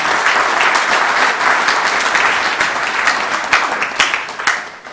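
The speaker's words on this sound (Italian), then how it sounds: "al quale farei un applauso visto che ci ospita" Loud, sustained applause from an audience for Dr. Gino Pasotti, president of the Terme company at Riolo Terme, dense clapping that tapers off near the end.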